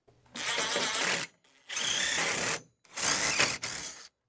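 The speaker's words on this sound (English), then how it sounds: "Put that on there and drill it." Power drill running in three bursts of about a second each, separated by short pauses, drilling a solar panel spacer onto a 2007 Club Car golf cart; close and loud.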